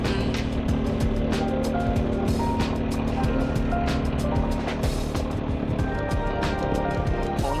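The Chameliya river rushes past in a continuous, loud wash of flowing water that holds steady throughout, with no one talking.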